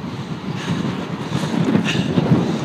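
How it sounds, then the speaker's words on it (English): Strong mountain wind on Mt. Baldy roars and buffets the microphone in a continuous, gusting rush, loud and close, with no voices. "Wind is so strong, it's whistling through my emergency whistle on my sternum strap."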